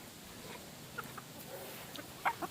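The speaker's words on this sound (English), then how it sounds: "These are the ones that live in my chicken coop." Backyard flock of chickens in a coop, including Jersey Giants, with a few soft, scattered clucks over a low outdoor background hum, the loudest near the end.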